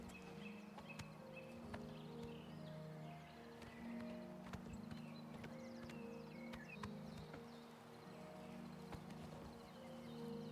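Horse hooves clip-clop steadily in the fantasy game Oblivion, a continuous walking rhythm of hollow knocks heard alone at low volume with no talking.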